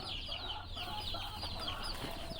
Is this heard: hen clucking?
yes